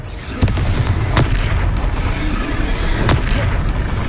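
Fiery Confringo spell blasts in the Hogwarts Legacy video game, three sharp booming bursts spaced across a dense, roaring battle din.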